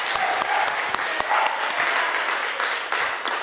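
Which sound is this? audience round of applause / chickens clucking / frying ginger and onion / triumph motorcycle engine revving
audience round of applause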